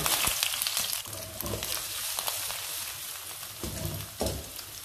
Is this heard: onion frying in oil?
yes